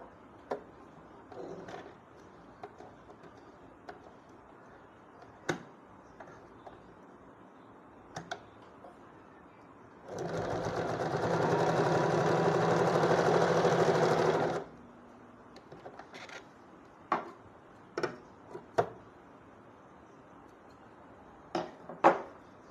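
A sewing machine runs steadily for about five seconds, stitching two joined fabric pieces 1.5 inches from the edge, with scattered soft clicks and handling taps before and after.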